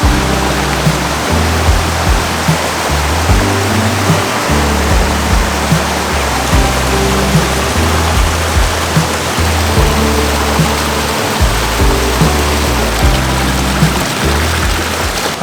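A brook rushes steadily through rocky Padley Gorge in the Peak District on an October day, a loud continuous wash of flowing water filling the whole span with no voices.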